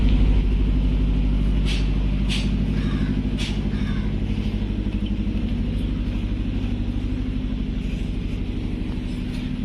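A new BharatBenz truck parked at a workshop runs its engine in a steady, low, throbbing rumble, with a few sharp clanks and knocks near the start.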